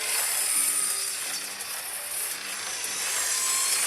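A video game saw from RedBall 4 makes a rasping sound, cutting back and forth in a steady rhythm, bright and hissy, with a faint tonal hum beneath.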